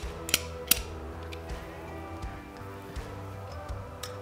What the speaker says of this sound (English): line up the bolt on the notch on the operating rod so it slides back and forth